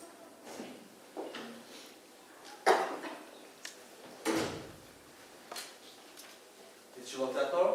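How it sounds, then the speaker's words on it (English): A door being shut and locked in a stage production of 12 Angry Jurors, a few sharp knocks and clunks of latch and wood scattered through the stretch, moderately close, with quiet room sound between. "Did she lock that door?"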